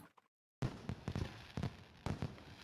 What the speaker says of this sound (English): It It looks like they're fireworks.